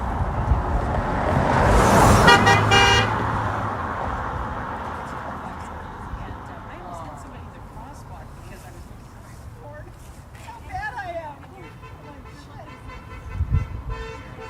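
Car horns toot at a street-side honk-a-thon protest in Ballard, Washington, with a loud blast early on and another later, over steady traffic rumble and nearby voices.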